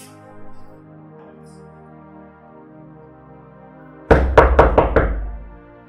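Five sharp knocks on a door in quick succession, loud and close, after a few seconds of near silence in a room with a faint low hum.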